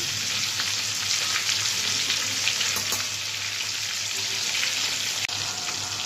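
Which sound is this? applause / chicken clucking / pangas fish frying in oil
pangas fish frying in oil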